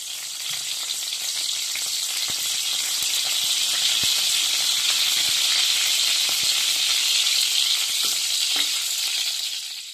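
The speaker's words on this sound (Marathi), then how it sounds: "तेल थोडंसं गरम होऊ द्यायचं आपल्याला त्याच्यामध्ये कढीपत्ता टाकून घ्यायचा आधी" Curry leaves frying in hot oil give a steady, close, loud sizzle and crackle that swells and holds, with a few sharp pops scattered through it.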